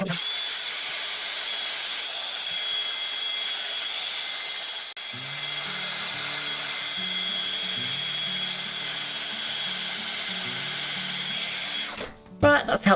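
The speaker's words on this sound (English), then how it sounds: "let's dry that with the dryer and let that glue set just a little bit more so that stands up" A hair dryer blows a steady, close whir while it dries E6000 glue on a Christmas craft, with a tonal hum that shifts partway through before it cuts off near the end with some handling clatter.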